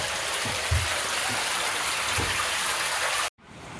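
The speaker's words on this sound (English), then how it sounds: "So this is the water coming after the spillway." Water rushing steadily below the spillway of a 100-year-old hydroelectric plant, a broad close hiss of flow with a few low thumps, cutting off abruptly near the end.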